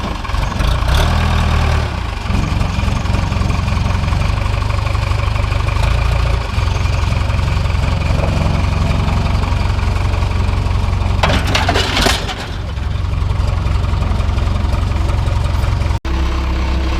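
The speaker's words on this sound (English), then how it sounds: "Got a little tiller action coming up." Small farm tiller engine runs steadily and loud throughout, a continuous low mechanical drone with a few brief louder bursts partway through.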